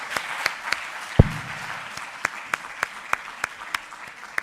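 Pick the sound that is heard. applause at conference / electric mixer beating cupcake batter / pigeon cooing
applause at conference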